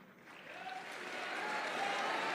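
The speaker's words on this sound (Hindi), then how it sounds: "तालियां बजनी चाहिए।" Audience applause in a hall at a student festival, quiet at first and swelling gradually into fuller clapping from a seated crowd.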